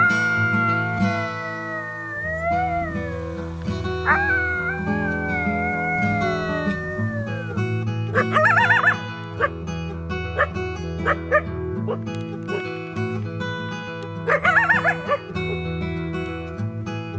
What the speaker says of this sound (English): they rely heavily on social communication, including howls, barks, yips, and whines